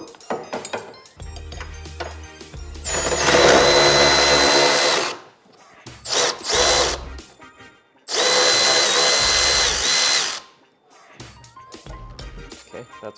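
A power tool, likely an impact driver, removing two 10mm bolts from a bracket: two long, loud whirring bursts with shorter spurts between, near and alone without talk.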